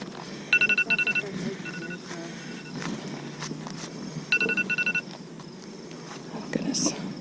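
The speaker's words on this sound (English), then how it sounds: "Sorry about the phone, friends." A phone rings close by in two bursts of rapid electronic trilling tones, separated by a few seconds of muffled rustling and soft voices in the background.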